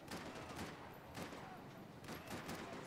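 Gunshots in the action shooter Max Payne 3 during a firefight with police: several heavy, muffled shots about a second apart over a continuous rumbling background, loud and close.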